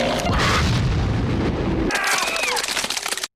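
A heavy pipe-bomb blast in a fishing scene hits with a deep booming roar that rolls for about two seconds, then gives way to high crackling debris and noise before cutting to silence.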